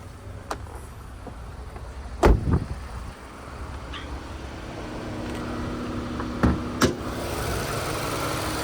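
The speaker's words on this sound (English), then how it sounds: "we'll listen to it run, imagine knocks, rattles or squeals, so that motor ticking over nicely" A 2019 Mazda3 G25 engine idles smoothly with the bonnet open, a steady low rumble close by, broken by a few sharp knocks and clunks as things are handled near the car.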